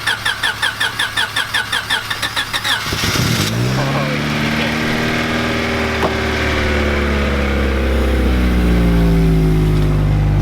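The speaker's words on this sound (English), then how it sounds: "I wonder if he's gonna let it warm up or we're just gonna redline." A Honda Civic engine cranks with a rapid rhythmic starter chatter, catches, and revs hard from a cold start. Its loud, rising engine tones sweep up toward redline and stay close and strong.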